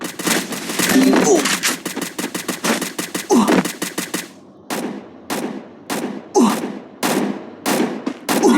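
Video game gunfire from an enemy shooting ahead: rapid bursts of loud shots in a dense stream, then separate single blasts with short gaps, all close and sharp.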